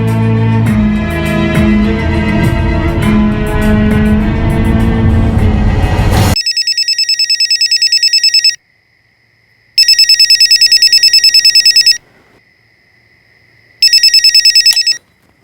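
A telephone ringtone sounds in repeated electronic bursts with gaps between them. It follows a few seconds of loud music and carries no talk.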